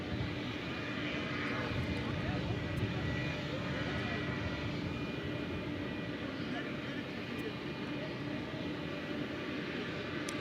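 A passing airplane at DFW International Airport, a steady broad engine roar that holds loud throughout with someone talking over it.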